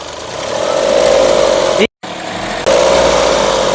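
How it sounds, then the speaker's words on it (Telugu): A 2017 Mahindra TUV300 T8 AMT engine idles steadily nearby, a constant low hum that cuts out briefly for a moment before resuming. "ఇంజన్ మంచి ఇంజన్ యొక్క నాయిస్ పర్ఫెక్ట్గా ఉంది"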